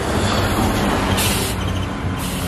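Idling bus with a Mercedes-Benz 1626 engine at the Pulogebang bus terminal, a steady low diesel rumble with a brief hiss of air near the middle, mixed with dense terminal background noise.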